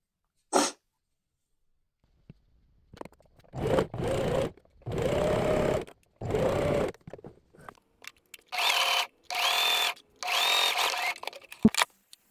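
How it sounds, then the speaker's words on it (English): A sewing machine stitches fabric for two-piece sleepwear in several short bursts of motor whirring separated by pauses, with a few isolated clicks and handling sounds. "And let's start sewing."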